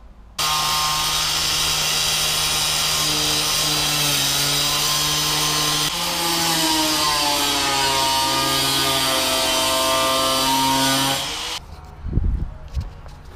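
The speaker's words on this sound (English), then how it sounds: "I'm going to get the angle grinder out" An angle grinder cuts through the steel straps holding the fuel tank of a Chevrolet Nova, a loud sustained whine with shifting tones running for about eleven seconds before stopping, followed by a few clanks.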